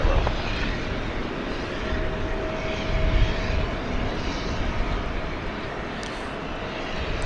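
Airliner taking off at night from runway 18 left at DFW airport, a steady, broad engine roar that holds for several seconds at moderate distance, with no speech over it.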